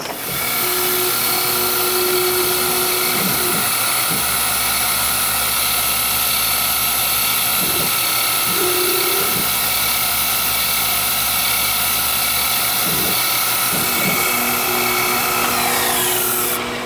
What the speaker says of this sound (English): Next, I think, is the spot drill.